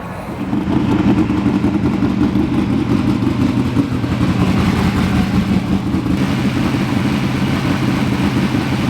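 Racing engines fired up at a dirt track for a High Limit Racing night in Oregon, a loud continuous rumbling drone of several motors idling and revving together in the distance, steady throughout with no talk.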